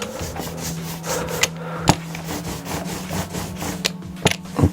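An ink roller is worked back and forth over a carved woodblock to ink it for woodcut printing. It makes a continuous close rubbing, rolling texture with repeated strokes and a few sharp clicks and taps.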